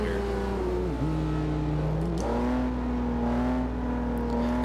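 A 2015 Volvo S60 in the Forza Horizon 2 racing game, its engine droning steadily as it accelerates, pitch dipping briefly at gear shifts before climbing again, a continuous near tone with no talk over it.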